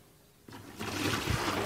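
Water poured into a container for making solid rain, starting quietly then swelling into a close, full splashing gush.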